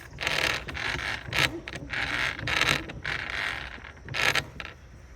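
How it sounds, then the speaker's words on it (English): A repaired backpack sprayer handle is pumped by hand, giving repeated creaking, squeaking mechanical strokes about once a second, close and fairly loud, with no talking. "You see, I can pump this."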